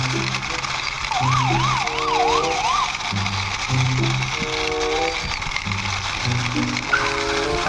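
A toy police car's electronic siren wails in a rapid up-and-down warble, then gives way to a looping beeping electronic tune with steady tones, loud and close throughout.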